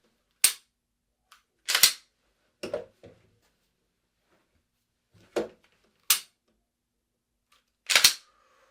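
About six sharp pistol gunshots crack at irregular intervals during a shooting skills test, each loud and close, separated by silence, with a faint click between the first two.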